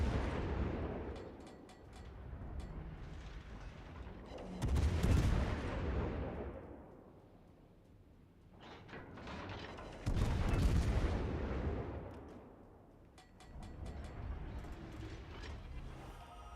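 Naval gunfire in World of Warships: Legends, including ships such as the Des Moines and Alaska, with heavy booming salvos arriving in waves and rumbling between them, loud and with no talk.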